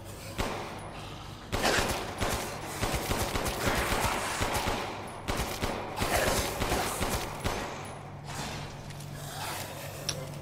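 Rapid bursts of gunfire crackle continuously, dense and fairly loud, like automatic weapons firing, in a factory scene of the game Resident Evil Village, with no talking.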